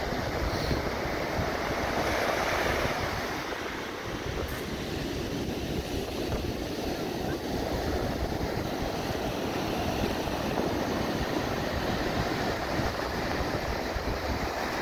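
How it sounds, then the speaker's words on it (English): Big ocean waves break and wash along St. Augustine beach, a loud continuous roar of surf mixed with heavy wind buffeting the microphone, rolling on for the whole stretch with no voices. "Look at them big waves."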